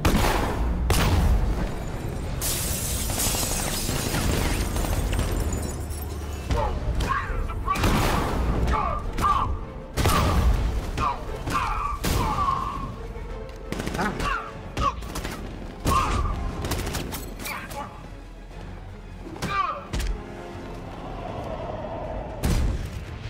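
A sustained fusillade of gunfire and heavy booms in a Batman video game, right after an order to open fire, with shots clustered in bursts and occasional voices mixed in.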